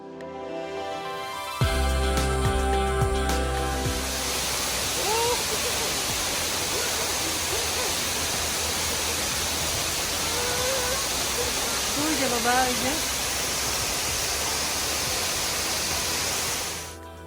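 A mountain waterfall in South Korea roars as a steady, loud broadband rush, with faint voices and a few brief bird-like chirps over the continuous water noise.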